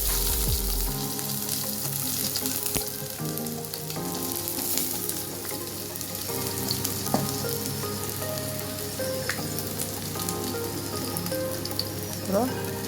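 Onions sizzle and fry steadily in a pan for a fish curry, a dense continuous crackle with small pops and occasional stirring, close and fairly loud with no talking.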